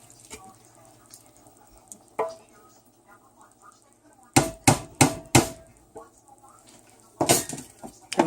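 Spaghetti sauce ingredients tumbling into a cooking pot: a quick burst of four or five loud clattering thuds, then another clatter a few seconds later, over quiet kitchen background.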